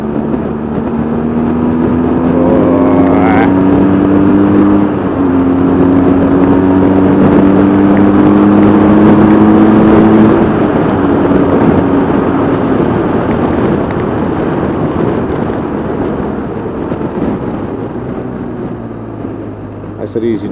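A car on old tires drives easily along a coastal road around Mulroy Bay, Downings and the Atlantic Drive, with a close, steady engine hum that shifts pitch through gear changes, wind noise in the background, and someone talking over it.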